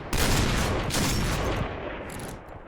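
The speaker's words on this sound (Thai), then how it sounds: "อุ้ยยิงกันโหดจังวะ" Heavy gunfire in the Point Blank shooter game pours out as dense, loud bursts of rapid shots, fading slightly toward the end.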